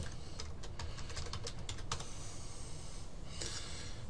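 Computer keyboard keys tapped in quick bursts while entering a column name in lab software, crisp close clicks in an irregular run, pausing, then a short final flurry over a steady low background hum.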